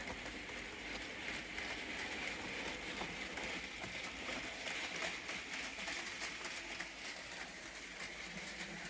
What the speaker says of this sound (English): she can pull this coal train, as you can see.